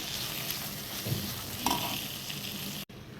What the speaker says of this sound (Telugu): కాసేపు ఇట్లా నూనెలో ఇట్లా మనము వేపుకుంటానండి